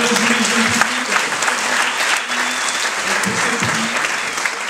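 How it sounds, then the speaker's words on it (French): Loud, sustained applause from a cinema audience at a film festival closing night, honoring the youth jury; dense, steady clapping fills the hall throughout, with a little crowd murmur beneath. "on peut applaudir le jury jeune public"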